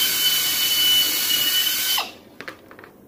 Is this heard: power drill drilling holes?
yes